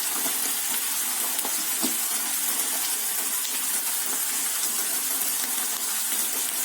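Spinach and minced meat cooking in a pan for a savoury tart filling, giving a steady bright sizzle that is moderately loud and continuous with no talk.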